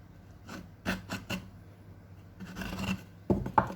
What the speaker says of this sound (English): you can clean a groove by using the corner of the chisel